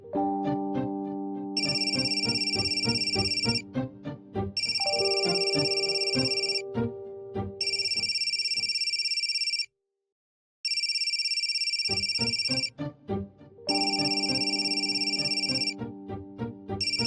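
A mobile phone ringtone plays loudly in repeated melodic bursts with a bright, high tonal layer, broken by a short silent gap partway through before the ringing resumes.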